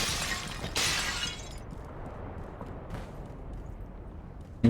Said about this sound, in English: Break every pot in the priest's house.